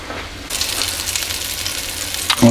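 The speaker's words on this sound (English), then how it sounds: "once the patty has been frying for about 5 minutes on one side, turn this over" Beef patty frying in a pan, a sudden bright sizzle that starts after a brief quiet moment and stays steady and close, with a short clatter near the end.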